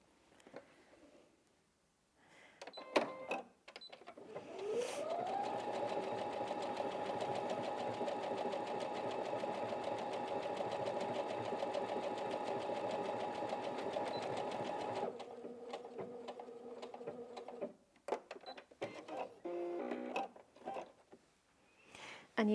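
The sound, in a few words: Brother Inventio NV1850Q sewing machine sewing decorative heart stitches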